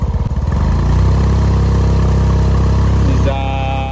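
A Yamaha TMax 500 scooter engine with a charging fault throbs loudly up close, its pulsing idle rising into a steady rev and then easing back near the end, with no talking over it.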